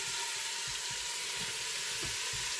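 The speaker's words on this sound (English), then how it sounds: "Ooh, you hear that sizzle?" Pork pieces sizzle in hot oil inside an Instant Pot: a steady, bright hiss near the pan with faint soft pops and low thuds as the meat settles, with no voices.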